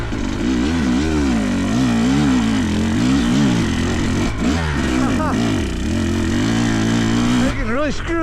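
A Fantic XE300 dirt bike engine drones loud and close while being ridden on a Colorado trail, its pitch rising and falling steadily with throttle changes and a few sharp revs near the end.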